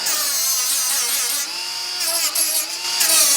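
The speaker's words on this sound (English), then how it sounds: "So I like to get rid of all the burrs and get rid of all the sharp edges." A power tool grinds burrs and sharp edges off metal during a van build. The whine is loud, close and continuous, and its pitch shifts slightly as the tool bears down, with no talking.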